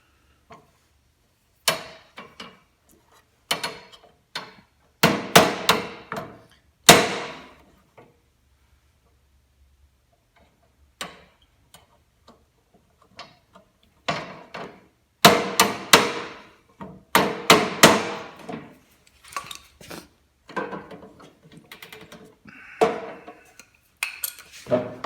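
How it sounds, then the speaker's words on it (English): Sharp metallic hammer strikes on a snowthrower during a tune-up, in irregular bursts, some single blows and some quick runs of taps, separated by short quiet pauses. "I think I'm gonna have to employ the hammer."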